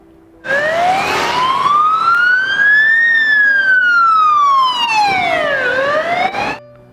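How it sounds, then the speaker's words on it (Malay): Ambulance siren wailing loudly and steadily, its pitch sweeping slowly up and then down across several seconds before cutting off, with a faint vehicle rumble underneath and no talk. "dia diangkat oleh ambulans untuk masuk ke hospital"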